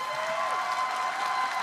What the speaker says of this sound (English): the crowd there actually clapped for this